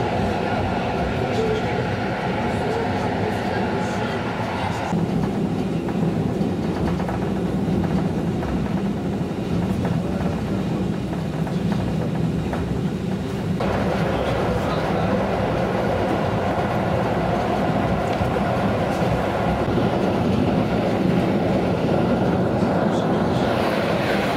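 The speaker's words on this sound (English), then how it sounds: "this train is pretty quick too" A train rumbles steadily along the rails at speed through the Polish countryside in 2005, a dense continuous roar with faint rattling, heard from inside a carriage.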